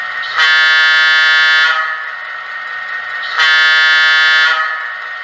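A Kato Olympian Hiawatha model train's sound decoder sounds a loud multi-chime locomotive horn in two sustained blasts of over a second each, separated by a short pause, up close.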